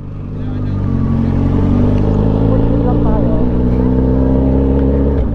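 Steady engine drone of a motorcycle riding on a road in Batangas with a passenger aboard, loud and continuous throughout after a brief rise at the start, with a voice talking over it.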